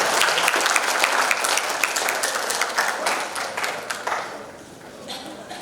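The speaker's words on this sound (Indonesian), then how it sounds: "Tepuk tangan gemuruh untuk Al-Ahmadi." Thunderous audience applause at a youth entrepreneurship bootcamp and festival in Batam, honouring Al-Ahmadi. A dense, loud wash of many hands starts strong and slowly fades over several seconds.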